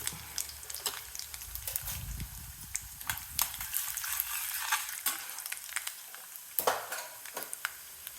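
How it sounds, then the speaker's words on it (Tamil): Chana dal and urad dal frying in oil in a pan for Tamil mango rice, a crackling sizzle broken by repeated sharp spatters and scraping stirs, close and continuous, with no voices. "கடலைப்பருப்பு தான் கொஞ்சம் புரியத்துக்கு லேட் ஆகும் உளுந்து பருப்பு"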